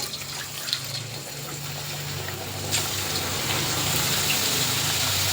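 Potato chips go into well-heated oil for frying. A steady watery hiss swells noticeably partway through as more slices hit the oil, then holds as a dense, close fizz.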